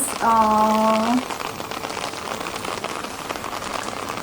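Steady rain patters on London streets, a close, even hiss of drops hitting wet pavement that runs throughout, with a brief voice at the start.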